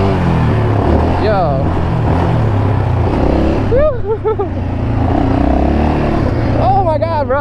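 A Yamaha Raptor 700 quad's engine roars loud and close while drifting, the pitch rising and falling between bursts of excited talk over the motor.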